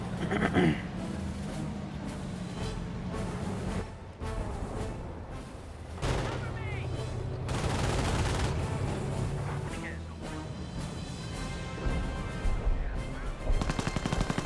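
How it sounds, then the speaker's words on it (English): Sustained gunfire and heavy booms from an artillery barrage in Company of Heroes, dense and continuous with repeated bursts throughout, some impacts louder and nearer than others. "And I do hear another artillery barrage shooting somewhere."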